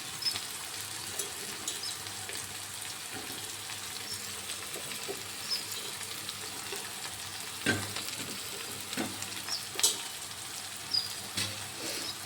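Fried bitter gourd sautés in a pan for a tamarind gravy, a steady soft sizzle with occasional stirring scrapes and clicks, close and without talk.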